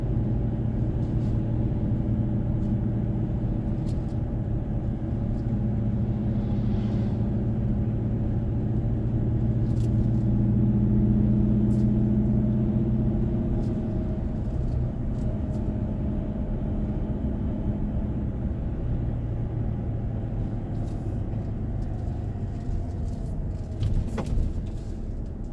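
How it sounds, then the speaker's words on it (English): A 2020 Great Wall Steed twin-cab ute with a 2.4-litre petrol engine and five-speed manual, cruising in third gear at 40 km/h on flat road: steady low engine drone and road rumble inside the cab, with occasional small knocks and no voices. "So at 40 k's in third gear along the flat."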